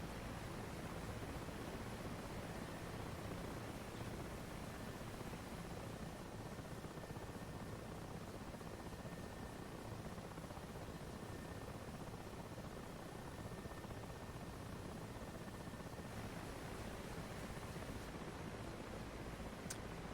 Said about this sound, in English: Wouldn't think it's a day for a lot of helicopter flying.